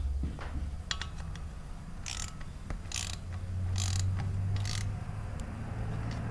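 A wrench snugging 10mm bolts on the water pump of a 1996 Ford F350 Power Stroke, with quick ratcheting clicks and short metallic rasps in bursts over a low steady hum close by.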